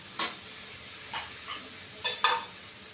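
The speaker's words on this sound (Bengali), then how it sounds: "হলুদের গুঁড়ো দিয়ে দিচ্ছি। দিয়ে অল্প কষিয়ে নিচ্ছি।" Turmeric powder being sautéed in a pan for mustard rohu fish curry: a few short, quiet spatula scrapes and stirs with a faint sizzle, spaced irregularly, with no talking.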